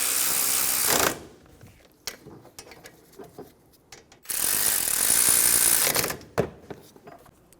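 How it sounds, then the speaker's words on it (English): A ratchet snugs down the front brake caliper bolts on a 2012-2020 Chevrolet Sonic, two bursts of rapid clicking close by separated by quieter taps and handling noises, no voices. "Snug the bolts down."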